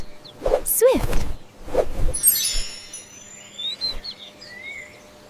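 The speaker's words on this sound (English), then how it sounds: "Swift, swift." A swift gives shrill, high screaming calls mixed with sharp whooshing swishes, as if darting close past, with a few brief chirps between; no one speaks.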